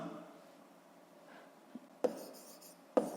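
A hand writes out a mass formula for a physics problem, giving faint scratchy pen strokes over near silence, with two sharper taps toward the end.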